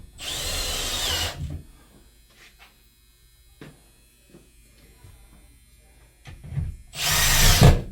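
A power drill whirs loudly for about a second while driving screws to anchor a vape vending machine wall mount, then a quiet stretch with faint handling noises, and a second strong drill burst near the end.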